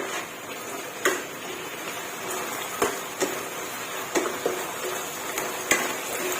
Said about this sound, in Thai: แล้วก็พัดให้เขากันค่ะ